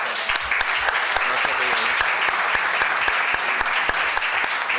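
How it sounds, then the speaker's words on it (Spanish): Sustained audience applause after a talk at a Spanish-language meeting, dense steady clapping from many hands throughout, fairly loud and continuous with no pauses. "démosle un gran aplauso."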